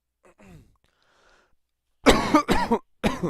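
A faint murmur first, then three loud, sharp coughs in quick succession, close to the microphone.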